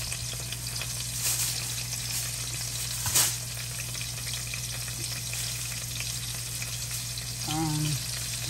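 Shrimp frying in a pan give a steady, close sizzle that runs throughout at an even level, with a low constant hum underneath and a few brief clinks of a utensil stirring.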